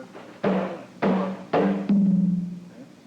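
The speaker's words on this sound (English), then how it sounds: "The syncopated stroke is an open sound" Open syncopated stroke on a hand drum used for merengue, four struck hits with the last ringing longer, close and clear.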